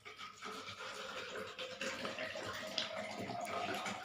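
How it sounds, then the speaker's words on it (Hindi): One litre of water poured from a container into a vessel makes a continuous splashing, gurgling flow at close range, lasting several seconds at a moderate, steady level. "इसमें 1 लीटर पानी है, तो इसको मैंने इस बर्तन में डाला।"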